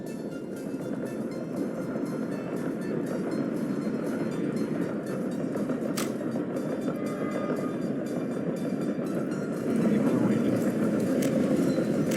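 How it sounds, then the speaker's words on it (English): A train runs in the city-building game Workers and Resources: Soviet Republic, giving a steady rumbling clatter that grows louder near the end, with a faint click partway through. "Follow this train, I guess."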